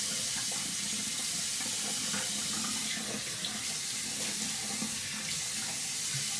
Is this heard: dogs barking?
no